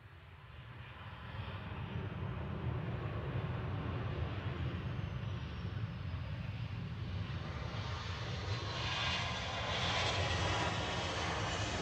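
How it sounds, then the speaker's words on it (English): A 14-year-old Ryanair Boeing 737-800, arriving from Palma de Mallorca, comes in to land at Manchester Airport with a steady, broad jet roar that swells and holds from a distance, with no voices. "this Ryanair is coming in from Palma de Mallorca. It is a 14-year-old 737-800"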